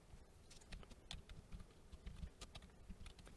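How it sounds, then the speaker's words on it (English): Typing on a computer keyboard at a desk, a steady run of close, crisp key clicks with brief pauses, no talking. "you're going to have to type in some things here"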